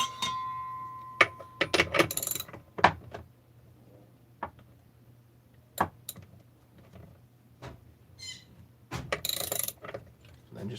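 A crankshaft is cranked down into a motorcycle crankcase, giving scattered close metallic ratcheting clicks and clunks in irregular bursts over a low steady hum, with no talking.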